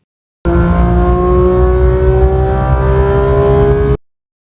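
A loud car engine revs hard as a sound effect, one sustained throaty roar with a steady rising pitch lasting about three and a half seconds, close and alone, starting and stopping abruptly.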